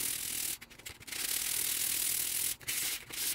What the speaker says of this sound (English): this is 500 grit, a little bit of oil. And I'm just gonna run around and deburr it some.